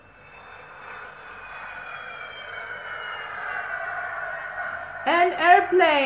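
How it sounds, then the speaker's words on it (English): An aircraft engine roar builds steadily over several seconds, growing louder as it nears, and a voice speaks briefly over it at the end. "An airplane."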